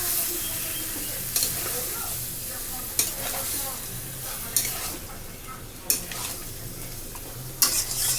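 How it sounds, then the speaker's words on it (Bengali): A pot of marinated meat, tomato sauce in the mix, is stirred over steady frying sizzle, with a sharp spoon scrape against the pot every second or so and no talking. "ভালো মতো নাড়িয়ে নেব।"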